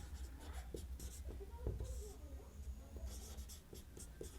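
Chalk or marker scratches and taps against a board while writing out a maths statement for a class ten real numbers lesson, soft and close, in irregular short strokes over a quiet room hum.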